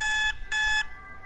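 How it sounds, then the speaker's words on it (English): An alarm clock going off in two bright, repeated electronic beeping bursts, loud and close, each lasting about a third of a second with a short gap between. "The alarm went off far too early for my liking"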